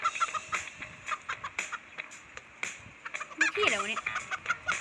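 A chicken clucks in short, repeated bursts, and one longer squawking call comes near the end, with a person speaking softly now and then.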